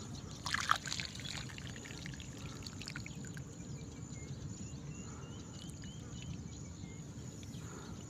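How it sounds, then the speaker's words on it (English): Excess water flushes out of a tomato and pepper nursery in a steady, continuous trickling pour, with a brief clatter at the start and no talking. "So we'll try to make sure that the excess of the water is flushing out."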